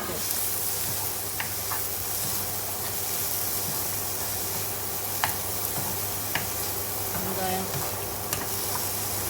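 Onions cooking in a pan for a Sri Lankan-style fish curry, giving a steady, soft sizzle with faint stirring scrapes and a few light clicks across the whole stretch, with no voices.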